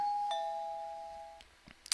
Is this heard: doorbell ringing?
yes